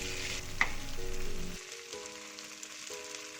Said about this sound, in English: Now start the tofu. Now we fry 2 until 3 minutes.